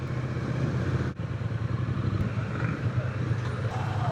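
Triumph Speed Twin 900 motorcycle engine running steadily at close range, a continuous low rumble with a brief dip partway through.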